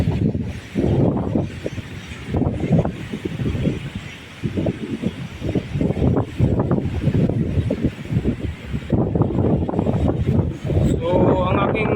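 Strong wind buffets a camera microphone outdoors under an overcast sky, producing low, rumbling gusts that come and go in bursts while someone talks over them.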